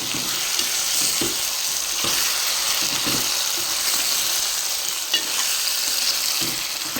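Chicken sizzles steadily in a hot pan while a utensil stirs it, giving occasional scraping knocks under the constant frying hiss.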